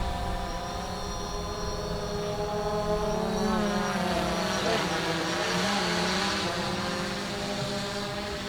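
A Fluidity FT Aviator RC aircraft flies steadily, its propeller buzzing in a continuous, slightly wavering whine. The drone stays close and fairly loud and never stops.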